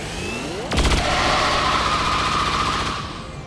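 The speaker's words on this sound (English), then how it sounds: "That is a badass cannon." A heavy cannon fires in the video game XCOM 2: a sharp rapid burst of blasts followed by a long, loud rushing roar that slowly fades, with no talk.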